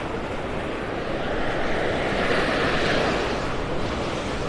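Ocean waves break continuously on a North Naples, Florida beach strewn with hurricane debris, making a steady broadband roar of surf with no talking.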